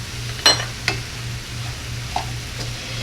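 Ground meat and vegetables seasoned with salt and black pepper cook in a pan, giving a quiet, steady sizzle under a low hum, with a few scattered clinks of a utensil stirring.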